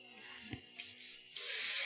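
An airbrush sprays hobby paint at a low pressure of about 18 psi, giving short bursts of soft hiss followed by a longer, steady spray after a faint click.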